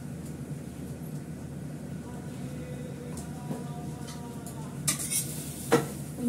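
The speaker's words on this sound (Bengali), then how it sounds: "ডালে আমি ফোড়ন দেবো 2 শুকনো লঙ্কা" Two dried red chillies are dropped into hot oil as a tempering for dal, making a soft sizzle under a spoon scraping and clinking against the pot, then a sharper hiss and a metallic clank toward the end.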